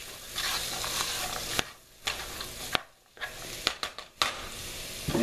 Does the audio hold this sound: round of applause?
no